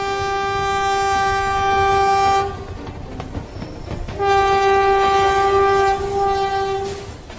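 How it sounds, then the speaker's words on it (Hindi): A cartoon train arrives at a station with a loud, harmonic horn blast. The horn breaks off, leaving rumbling clatter, then sounds again in a second long blast before fading. "हेलो सर, ट्रेन स्टेशन पर आ चुकी है।"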